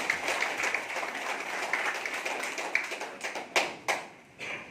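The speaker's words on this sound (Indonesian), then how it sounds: "mari kita berikan tepuk tangan kepada Bapak semua" Applause from the audience at a PBB Ranting Cibuntu inauguration event in Bekasi: steady, dense clapping through the clip, thinning toward the end into a few separate loud claps.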